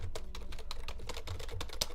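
Keys clatter on a computer keyboard during a live repair of an Alienware motherboard, a run of quick taps and presses at close range, steady over about two seconds with no voices.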